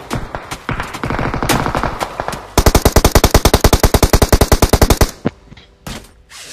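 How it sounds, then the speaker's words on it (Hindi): An Uzi submachine gun fires in a video game in rapid, loud, close bursts: a stuttering volley early on, then a long sustained run of evenly spaced shots, ending with a couple of isolated blasts. "इस बंदे के पास थी उजी, और उजी क्लोज रेंज में सबसे तगड़ी गन है।"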